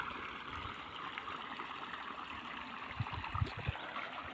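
Motor-pumped water rushes steadily along an irrigation channel, a continuous close gurgling flow with no voices.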